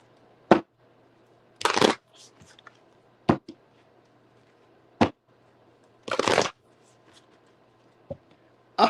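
Tarot cards being shuffled by hand in short bursts of riffling and sharp slaps, several separate quick shuffles and snaps spaced out against a quiet background.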